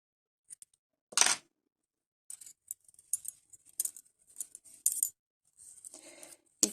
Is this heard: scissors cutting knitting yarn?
yes